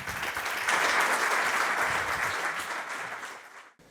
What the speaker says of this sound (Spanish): Le bienvenimos con un aplauso.